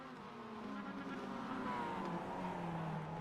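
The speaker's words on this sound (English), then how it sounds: "These poor engines, you can just hear them being tortured." Race car engines in the iRacing video game at Long Beach, several straining tones droning and shifting pitch together at a low, steady level, with no voices.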